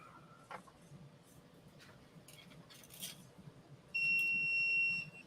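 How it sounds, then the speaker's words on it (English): A 3D printer sounds its completion beep, a short steady electronic tone lasting about a second, clear over a quiet room with faint background noise. "There is the beep."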